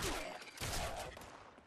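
Shotgun fire in the video game Fallout 76, two quick loud blasts close together, each with a rough decaying tail, heard alone.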